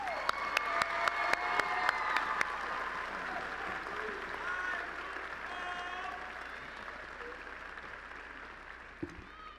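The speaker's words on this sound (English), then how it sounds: "Please join me in a warm round of applause for our Collegiate of Business speaker, Trenton Swinton." Warm applause from a large audience at a college of business commencement ceremony, a few sharp claps leading into sustained, moderately distant clapping with faint cheering, fading toward the end.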